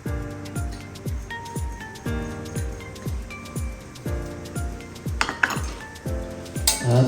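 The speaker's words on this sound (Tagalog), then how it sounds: "At haluin muna natin." Chicken being mixed with pepper, onion powder and garlic powder in a bowl for chicken inasal: a steady rhythm of metal spoon clinks and scrapes against the bowl, a clattering flurry near the end.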